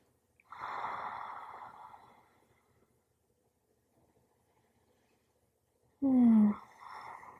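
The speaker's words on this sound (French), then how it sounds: "Continuez à respirer profondément." A woman takes slow, deep breaths during a floor-based prenatal yoga stretch, with a long soft exhale near the start, a quiet pause, then a louder, sharper breath close to the microphone.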